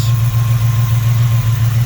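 A 1966 Plymouth with a 5.9-liter 360 cubic inch V8, Edelbrock AVS2 carburetor, Edelbrock RPM Air-Gap intake, JBA headers and a new exhaust idles steadily and loudly with a deep, even rumble close by.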